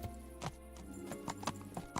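Horse hooves clop in an irregular run of sharp knocks in the medieval game Kingdom Come: Deliverance, heard close and fairly quiet with a steady low hum beneath and no speech.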